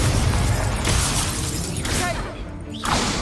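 A fire spell cast in the wizarding game Hogwarts Legacy bursts out with a loud crackling blast, followed by a short shattering flare and a few sparkling accents.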